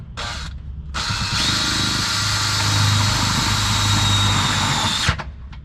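A power drill bores holes in a van's metal body for 12V air conditioner mounting brackets. After a brief opening burst comes one sustained, loud, close whine lasting about four seconds, then it stops.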